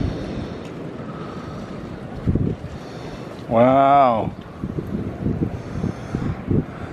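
Gusty wind blows outdoors around a muddy pony's paddock, buffeting the microphone with constant rough noise; a short whinny rises in the middle and a voice speaks briefly.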